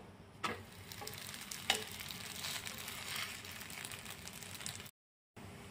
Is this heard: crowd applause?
no